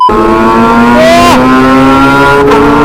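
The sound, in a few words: motorcycle aftermarket exhaust revving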